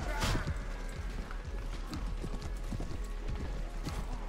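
Cavalry horses charge in the medieval battle game Mount & Blade Warband, with steady clip-clop hoofbeats running through a dense battlefield din and a brief whinny near the start.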